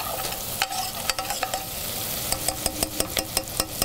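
Shallots cooking in butter in a pan for a mushroom bisque give a steady close sizzle and frying hiss. Sharp clicks and scrapes of stirring break through it, most densely toward the end.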